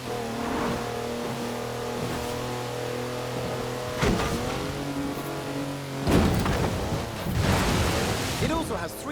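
A 340-horsepower Mercedes wagon in Forza Horizon 4 revs its engine, droning steadily and then surging louder in a few pulls, with broadband rushing noise beneath.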